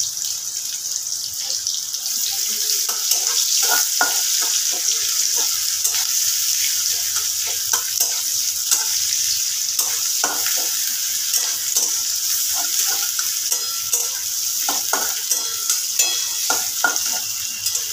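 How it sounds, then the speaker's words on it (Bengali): A small onion fries over a lowered gas flame, giving a steady close sizzle throughout, with scattered light scraping taps from stirring and no voices. "গ্যাসটা কমিয়ে দিয়ে পেঁয়াজটাকে আমি একটু ভেজে নেব।"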